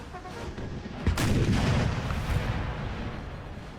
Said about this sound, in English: He's got 6 cannons firing on these guys.